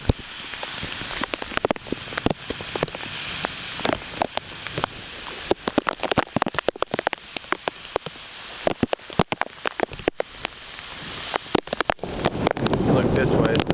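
Hurricane rain and wind hitting outdoors in southern Alabama, a dense constant hiss of rain with sharp crackling drops and gusts buffeting the microphone throughout, loud and close.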